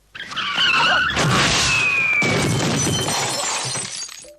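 A car strikes a person: tires screech and skid loudly, glass shatters, then crashing debris and a drawn-out squealing slide that gradually fades.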